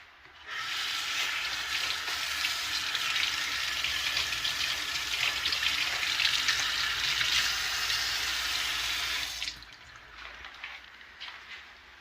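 Something washed under a running kitchen faucet during breakfast cooking of grits, eggs and bacon; a steady, fairly loud hissing stream runs for about nine seconds, then stops, leaving quiet kitchen clatter.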